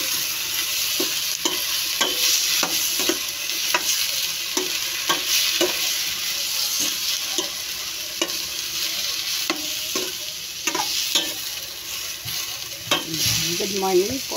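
Bean sprouts and mixed vegetables, cabbage among them, sautéing in a pan for Filipino ginisang gulay, giving a steady close sizzle broken by regular clinks and scrapes of a stirring utensil.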